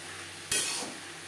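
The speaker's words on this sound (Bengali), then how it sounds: "সুগার পাউডার থোড়ের সাথে বেশ ভালো করে মিক্স করে দেব।" Fried banana stem mixed with powdered sugar in a pan: a single sharp scrape of a spatula, then a brief swell of sizzling that fades back to a quiet hiss, close by and with no talking.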